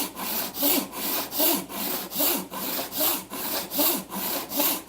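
A hand saw cuts through wood to taper a table leg, with about a dozen even back-and-forth strokes in a steady rhythm, heard up close and alone.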